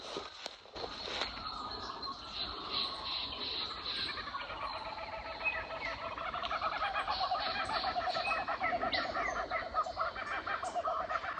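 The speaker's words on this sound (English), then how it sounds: "enjoy being out here listening to the birds" Birds call outdoors on a small permaculture farm, with a steady stream of chirps and clucking fowl-like calls filling the background throughout, growing a little denser toward the end.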